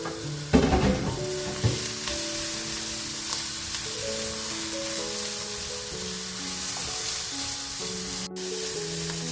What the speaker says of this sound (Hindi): अब हम इसमें अपना वेजा ऐड करेंगे और वेजा को हम सिर्फ यही कोई 1 मिनट तक कुक करेंगे